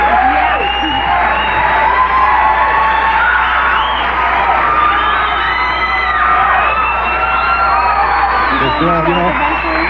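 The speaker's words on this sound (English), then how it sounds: "They're still cheering the monologue" A television studio audience at a 1987 talk show keeps cheering, whooping and clapping after the monologue, a loud, continuous roar of voices and shouts that carries through the whole stretch.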